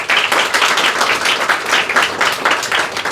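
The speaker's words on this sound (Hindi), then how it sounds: "ज़ोरदार तालियां ज़रूर करें" Audience at a school chemistry results event claps loudly for a top-scoring student, a dense, steady burst of many hands lasting a few seconds with no talking.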